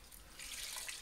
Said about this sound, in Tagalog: tapos po ay lalagyan po natin ng tubig